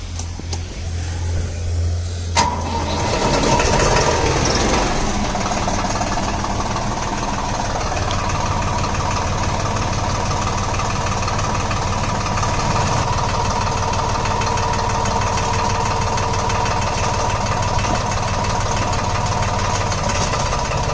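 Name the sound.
tractor engine starting and idling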